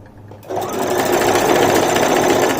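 A sewing machine stitches the side seam of a pant-cut palazzo trouser, starting abruptly after a brief quiet moment and then running as a loud, steady, close whir to the end.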